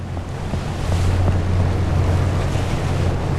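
Two- to three-metre rolling ocean waves wash steadily against an LNG ship in the game Seafarer, a broad, constant surge over a deep, droning rumble, with no voices.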